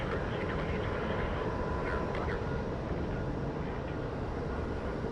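An airplane at Phoenix Sky Harbor International Airport roars with a broad, steady rumble, loud and close, while a person talks over the engine noise.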